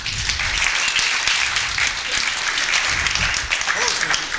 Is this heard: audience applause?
yes